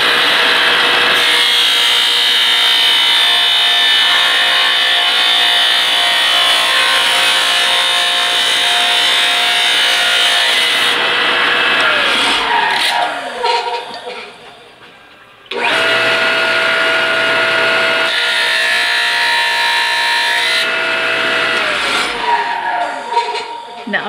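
A TaylorCut saw cuts through a bolt with coolant running, giving a loud, steady motor whine with a cutting rasp. It dies away briefly partway through, then starts up again at full volume.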